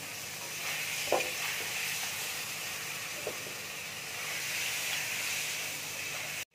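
Water hits Kashmiri chili powder frying in a pan for an ilish fish curry, giving a steady soft sizzle and hiss with a couple of faint clicks, and no voices.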